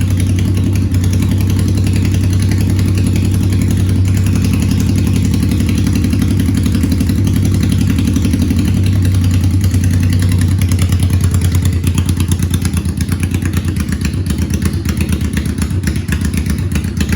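A 1985 Honda Shadow 750 idles steadily just after starting, a loud, close, even rumble with a mechanical clatter that holds for the whole stretch, with no voices over it.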